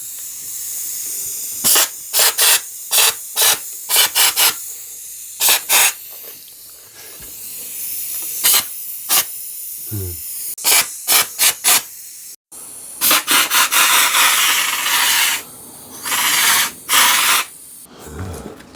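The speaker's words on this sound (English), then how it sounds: "Let's spray this stuff on. It is literally just in an air gun attached to a pot." An air spray gun fed from a pot on an airline sprays coating onto a car's front suspension parts in loud, hissing bursts of varying length, separated by quieter gaps, with no talk.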